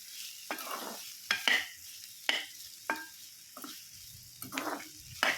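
Potatoes and ivy gourd frying in a pan with a steady soft sizzle, broken by repeated sharp scrapes and clinks of stirring at irregular intervals, close and moderately loud with no talking.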